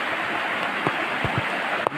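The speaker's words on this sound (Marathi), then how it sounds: "अरे पाऊस थांबतच नाही" Steady rain falls through the night during the first rains, a dense hiss with a few louder drops tapping nearby; no voices.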